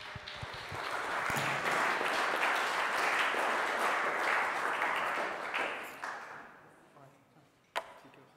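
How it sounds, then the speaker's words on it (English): Conference audience applauding a speaker at a tech talk, a dense, steady wash of clapping that holds for about six seconds, then thins and fades, with one sharp knock near the end. "let's give the mic to Damien Gosset and give him a round of applause"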